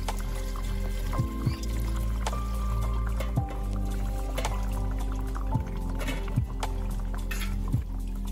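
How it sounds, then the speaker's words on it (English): Recovered gold material being washed in a small container of liquid: repeated drips, trickles and wet squishing sloshes recur every second or so, close and fairly loud, with no talking. "we'll transfer everything into a smaller container and wash it properly"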